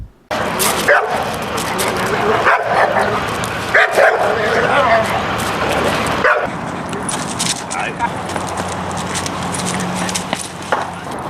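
A reactive dog close by barks loudly and repeatedly, with yips and whimpering between the barks, in a near-continuous outburst. Voices seem to be mixed in underneath.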